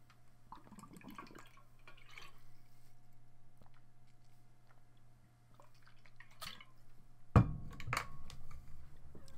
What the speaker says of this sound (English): I'm going to have a little drink of water